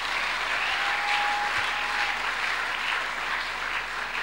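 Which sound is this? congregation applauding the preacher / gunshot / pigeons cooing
congregation applauding the preacher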